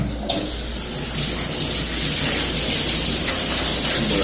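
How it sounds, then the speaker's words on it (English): Water runs hard and steady from a leaking shower head in a 70-year-old Phoenix home, a loud continuous gushing hiss filling the space without pause and with no talking. "Testing out the shower. Shower head leaks like crazy."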